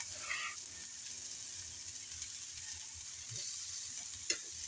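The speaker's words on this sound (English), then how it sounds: "I'm going to turn this down to low, and I'm going to throw the garlic in there" Garlic and onions frying over low heat in a pan for cheeseburger stuffed mushrooms, a soft continuous sizzle with a few light stirring scrapes and a brief tap near the end, quiet and without voices.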